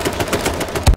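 Gunfire from the video game H1Z1: a rapid, steady series of loud shots in quick rhythm, ending with one heavier, boomier blast before cutting out.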